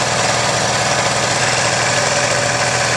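A 1985 Honda Aero 50 scooter engine runs steadily close by, a buzzy, rattling two-stroke idle with no pauses or talk.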